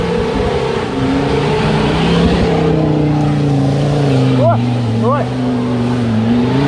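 A car engine revs as the accelerator is pressed, giving a loud, close, sustained drone that rises and settles, with a short shout and two brief chirping blips over it.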